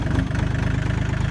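A tractor engine idles with a steady, low, even chugging pulse, close and alone with no voices.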